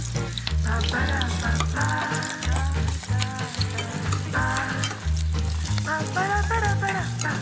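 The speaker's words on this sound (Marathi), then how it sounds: "कांदा आपला लाल झालाय" Chopped onion fries in hot oil in a wok (kadhai) for a cashew curry, a steady sizzle running beneath louder melodic background music throughout.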